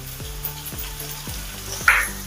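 Fish curry base with added turmeric frying in a pan, a steady close sizzle with repeated scraping stir strokes and a brief louder clatter near the end.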